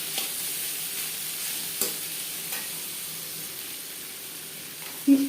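Vegetables being stir-fried for fried rice in a pan, a steady low sizzle with faint stirring scrapes and a couple of brief utensil knocks, close and alone.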